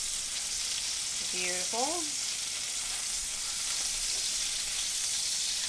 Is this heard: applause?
no